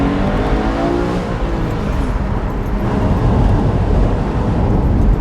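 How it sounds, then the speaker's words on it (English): A 2015 Porsche Boxster's exhaust drones steadily at low pitch while driving, loud and close, a constant rumbling roar with slight rises in engine note. "You could actually hear the exhaust now."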